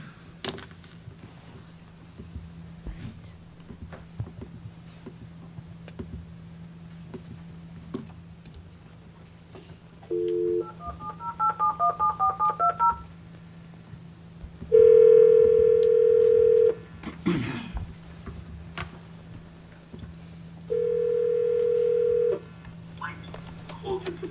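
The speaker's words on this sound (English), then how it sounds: "Can we dial Tim?" Touch-tone dialing on a speakerphone in a school board meeting room, with a short series of quick keypad beeps followed by steady ringback tones, heard over a constant low hum of the room's sound system.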